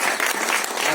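A brief, dense burst of audience applause at a film trailer launch press meet, steady clapping from a crowd heard up close for about a second.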